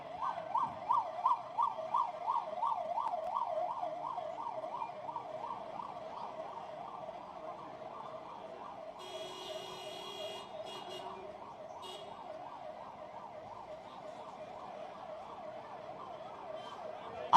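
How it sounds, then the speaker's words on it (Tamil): An ambulance siren wails in a steady, fast up-and-down cycle, fairly loud and continuous on a Kallakurichi street, while other high tones briefly sound partway through. "எல்லாரும் கொஞ்சம் வழி விடுங்க ஆம்புலன்ஸ்க்கு."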